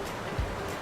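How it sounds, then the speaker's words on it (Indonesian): Rushing water of the Cibogo waterfall in a botanical garden, a steady broadband roar heard alone with a brief low thump partway through. "Wow, ternyata air terjun."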